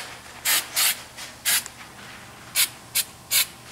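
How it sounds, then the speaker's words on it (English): Aerosol undercoating spray can sprayed onto a car chassis, heard as six short hissing bursts of about a quarter second each, loud and close, spaced irregularly over a quiet background. "So this undercoating comes out with a lot of velocity."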